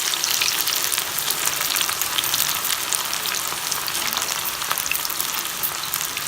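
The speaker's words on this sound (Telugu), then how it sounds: "డీప్ ఫ్రైకి కావాల్సినంత నూనె పోసుకొని ఆ నూనె కాగాక దొండకాయని కూడా దీంట్లో వేసుకుందాము" Ivy gourd (tindora) pieces coated in rice flour and gram flour deep frying in hot oil over a medium flame, a steady, dense sizzle and crackle that stays loud and even throughout with no talk.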